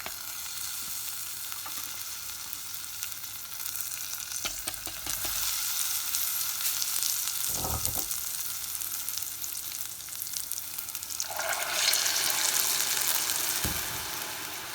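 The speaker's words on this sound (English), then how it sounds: "Strain the rice and add that to the pan along with the salt and hot water." Rice, salt and hot water hitting a hot frying pan for British Indian restaurant-style onion pilau rice, giving a steady close sizzle with brief bursts of bubbling and stirring.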